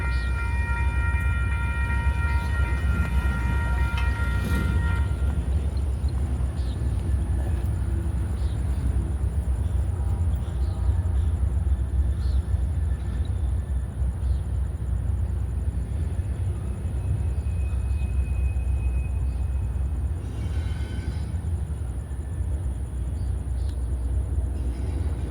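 A freight train horn sounds in sustained tones near the start, then the steady, loud rumble and rolling clatter of the passing train fills the rest.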